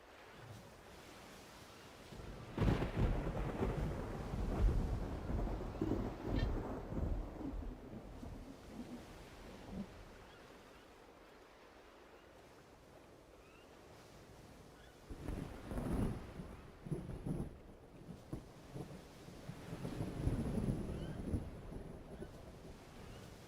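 Waves crash against rocks in a Mass Effect game scene, a rumbling, wind-blown surf that swells in loud bursts around the start and again toward the end, with a quieter lull in the middle and no talk.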